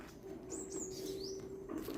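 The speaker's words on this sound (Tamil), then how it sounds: "குருவி தான் கத்திட்டு இருக்குது கிரிச்சு கிரிச்சுன்னு" Sparrows chirp in short high bursts at a site of an elephant attack, heard alone over a steady low background hum, moderately close.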